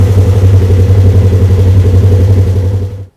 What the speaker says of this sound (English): start the vehicle, and let it idle for 30 seconds